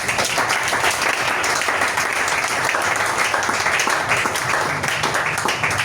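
A church congregation claps and applauds together in a dense, steady wash of hand claps that is loud and close and carries throughout.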